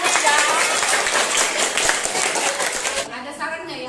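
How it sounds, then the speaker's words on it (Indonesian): A class claps hands in a schoolroom, a burst of quick, uneven clapping close by that fades out near the end, giving way to a brief voice. "Tepuk tangan saja."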